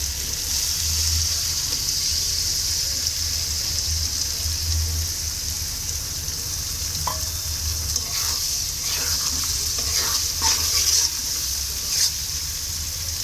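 Eggs frying in a pan while noodles are being made, producing a steady bright sizzle with occasional crackles and spatters that grow a little busier toward the end, with no talking.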